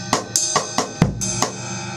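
A songo Latin groove on a drum kit: quick, evenly spaced strokes about every quarter second with a deeper hit in the middle, played close and crisp for two seconds with no talking.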